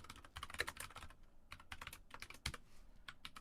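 Computer keyboard typing in irregular bursts of quick, crisp key clicks with short pauses, close and fairly quiet, while a line of C code is entered.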